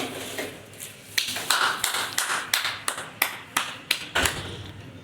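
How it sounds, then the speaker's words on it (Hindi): Hand clapping at a small family birthday celebration during cake cutting, a series of about ten sharp, fairly close claps in an uneven rhythm with faint room murmur between them. "ताली बजाओ अम्मा, ताली बजाओ।"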